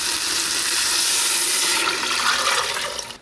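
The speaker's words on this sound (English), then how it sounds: "put the water in first" Water is poured into an Instant Pot over sautéed onions, a loud, steady rushing gush lasting a few seconds, close and uninterrupted.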